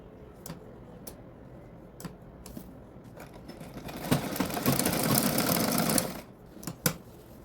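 A sewing machine stitches fabric for a tucked blouse, with scattered ticks and knocks that build into a steady whirring run of stitching for about two seconds and then stop, followed by a few more clicks.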